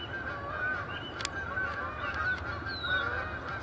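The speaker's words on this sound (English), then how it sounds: "Canada geese coming in." Canada geese honk faintly in the distance as a flock flies in, a steady scatter of calls over an outdoor background hiss, with no talk.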